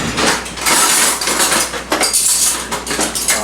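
Metal spoons and utensils clatter and clink as a hand rummages through a kitchen drawer for a bigger spoon, a steady, fairly loud jangle of silverware lasting a few seconds with no talking.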